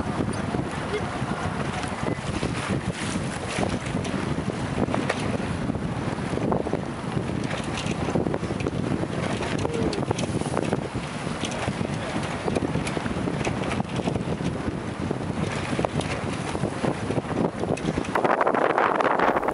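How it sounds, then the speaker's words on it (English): Strong, steady wind roars across the microphone aboard a MacGregor 26x sailboat heeling hard in building breeze with whitecaps, a continuous loud rush with water noise beneath, and no talking. "Now the wind is definitely building."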